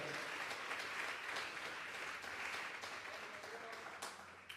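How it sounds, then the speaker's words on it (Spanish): Congregation clapping during a Sunday afternoon church service, a steady wash of many hands that stays fairly even and moderately distant for the whole span. "Vamos a darle una ofrenda de palmas a Dios en esta tarde."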